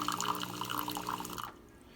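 A Philips 3100 super automatic espresso machine dispenses hot water in a steady, close trickle that cuts off abruptly after about a second and a half, leaving a quiet hum.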